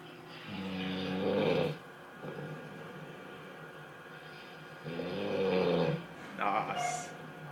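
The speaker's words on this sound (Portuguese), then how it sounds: "Roncando igual um idoso." Someone snoring loudly, two long rattling, throaty snores several seconds apart with a quieter breathing gap between, close and heavy, with brief voices in between.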